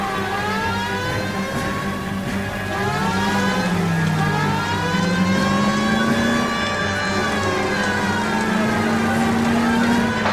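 Car engine droning steadily in L.A. Noire during a police pursuit of Kelso's car, a sustained tonal motor hum with slowly shifting pitch, close and continuous with no talk.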